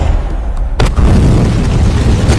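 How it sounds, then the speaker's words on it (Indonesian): A bazooka shot in a film hits with a sudden deep boom and a sharp burst, then a heavy rumbling explosion that rolls on loudly for about two seconds. "Lelaki itu kemudian menembakkan senjata basoka dan boom!"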